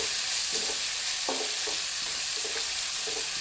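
Two finely chopped onions fry in hot oil with lightly cooked cumin for a black chickpea tadka. A loud, steady sizzle runs throughout, broken by a few soft stirring scrapes, with no talking.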